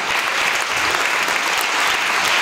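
Concert audience applauding after an evening of Russian romantic music at Radio Blagoevgrad, a dense, steady wash of clapping that stays loud and even throughout with no voices on top.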